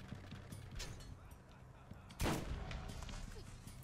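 A single sniper rifle shot in Borderlands: The Secret Armory of General Knoxx, one sharp loud crack with a short tail standing out over quiet game ambience and faint earlier pops.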